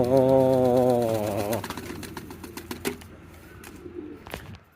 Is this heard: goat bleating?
no